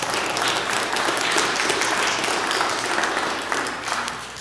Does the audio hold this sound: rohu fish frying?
no